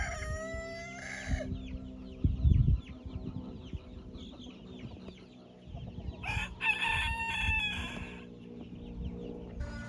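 A young rooster gives a short, thin crow among clucking hens in a backyard coop, with several bursts of crowing and clucking close by, moderately loud.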